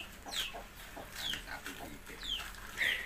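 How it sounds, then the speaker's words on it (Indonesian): Chickens cluck and chirp in short bursts against a steady outdoor background, moderately close, with several hens calling over one another. "Ini selain pelihara sapi ada banyak ayam di sini"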